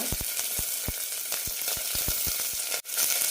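Small shallots and curry leaves sizzle in hot oil in a pan for a Kerala green gram curry, a dense close frying hiss with scattered pops and crackles and one brief clatter near the end, no voices.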